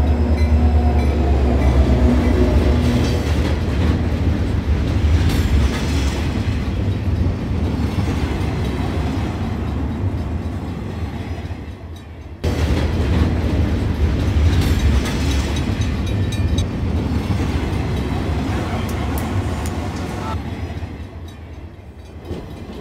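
A train runs on railway tracks at night during a railway police patrol. A loud, continuous rumble and clatter of wheels and cars goes on throughout, with a brief dip partway through before the steady roar resumes.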